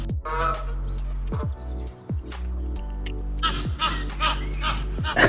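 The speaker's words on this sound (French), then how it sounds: "Oh, le canard!" A duck gives a series of loud, nasal honking calls close by, repeated in short bursts with brief gaps between them.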